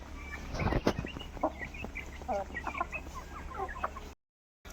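A laying hen in a backyard flock clucks in short, irregular bursts, fairly close, with a few sharper calls from nearby fowl and a steady low hum beneath.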